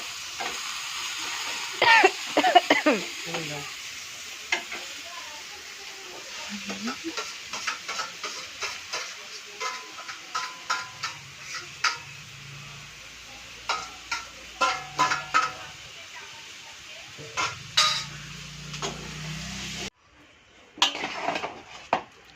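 Potatoes fry and get stirred in a pan, a low sizzle broken by frequent sharp clinks and scrapes of a utensil against metal, close and fairly loud, with a faint voice now and then.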